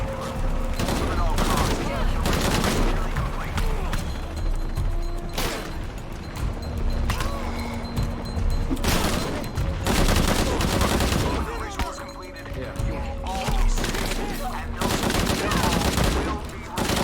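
Bursts of AK rifle fire in Shadow of the Tomb Raider, loud repeated volleys with sharp single shots and crashes, continuing through the whole stretch with faint talk underneath.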